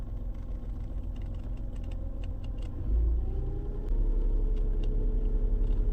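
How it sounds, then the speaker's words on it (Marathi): A car's engine rumbles low and steady while held on the brake on an incline, its note deepening and growing slightly louder partway through, with faint clicks above it. "इंजिनचा आवाज चेंज होत नाही आता बघा इंजिनचा आत्ता आवाज बघा"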